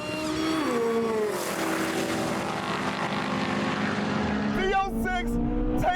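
Corvette Z06, Ford Mustang and Dodge Demon racing together, with loud sustained engine roar and shifting pitch as the cars accelerate, under excited talk throughout.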